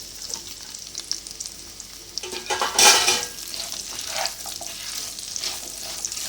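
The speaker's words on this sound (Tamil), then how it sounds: "நான் ஆயில் ஊற்றிருக்கேன், ஹீட் ஆகிடுச்சு. இந்த டைமில் நான் சாப் பண்ணி வச்சுருந்த ஆனியனை இதில் ஆட் பண்ணிக்கிறேன்." Chopped onions hit hot oil in a pan for paneer masala, bursting into a loud close sizzle that swells around the middle, with stirring scrapes and clinks throughout.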